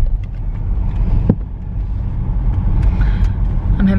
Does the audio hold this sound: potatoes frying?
no